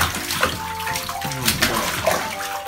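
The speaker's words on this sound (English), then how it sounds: "You doing splashies?" A baby splashes water in a filled bathtub, with steady sloshing and irregular splashes close by while an adult speaks over it.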